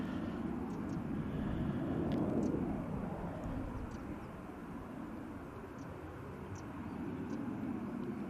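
A Ryanair airliner departing Manchester Airport gives off a faint, distant, steady engine rumble that swells slightly and then eases, heard alone without talk.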